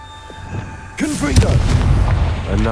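A Confringo fire spell in Hogwarts Legacy erupts with a sudden loud blast after a quiet start. A crackling, rumbling burst with warbling tones follows and fades slowly.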